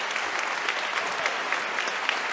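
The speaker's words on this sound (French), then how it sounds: "On les applaudit, là, on les applaudit." An audience applauds Mr. Bouchard and Mr. Giraldo with dense, steady clapping that fills the room at an even level, with no voices on top.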